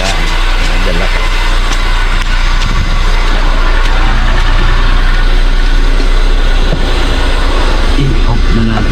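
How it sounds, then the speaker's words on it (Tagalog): A vehicle engine idles steadily with a low continuous rumble throughout, running loud and close before being switched off. "I-off na natin tong engine."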